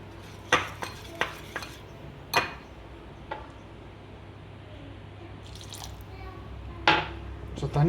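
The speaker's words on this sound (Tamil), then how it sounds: "ஃபஸ்ட்டு விட்டு ஒரு பீட்ரு வச்சு நல்லா பீட் பண்ணுங்கள்." Baby corn batter whisked with a beater in a bowl: irregular sharp taps and clicks of the utensil against the bowl, with soft stirring in between, close and fairly quiet.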